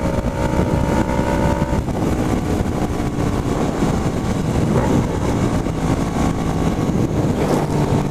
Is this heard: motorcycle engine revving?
yes